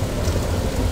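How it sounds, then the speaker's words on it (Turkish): Steady rain falls outside a room window in Kars, a dense even hiss of drops with a low rumbling undertone, heard briefly and without any voices. "Yağmur böyle seyredilir."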